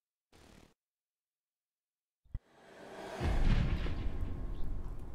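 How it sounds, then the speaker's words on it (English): Cannons fire in the video game 1428: Shadows over Silesia: a short muffled thump, silence, then a sharp crack followed by a deep, swelling roar of rumbling blasts that sustains loudly to the end. "Look at them firing their cannons blindly."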